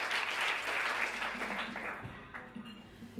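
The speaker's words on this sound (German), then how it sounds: "Und ich bitte um einen nochmaligen Applaus für Sarah Bosetti." Audience applause at a live comedy stage show, a broad wash of many hands clapping that fades gradually, with a voice beginning to speak as it dies down.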